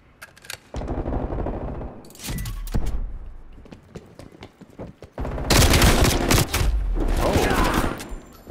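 Tech 9 submachine gun fire in Call of Duty Black Ops Cold War, with loud rapid bursts of automatic shots in several separate strings, broken by short pauses and quieter mechanical clicks.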